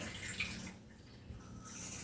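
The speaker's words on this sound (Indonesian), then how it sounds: "kita bisa pakai air keran. Jadi kita isi langsung dari PDAM" Tap water from a municipal supply runs steadily into a container in a kitchen during cooking, a soft continuous rushing and splashing with no talk.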